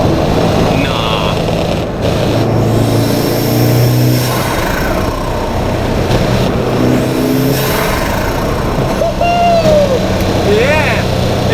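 A Subaru WRX with a stock intercooler revs and pulls hard under boost, recorded by a GoPro on the car. The engine note rises and falls repeatedly, loud and close, with bursts of turbo flutter.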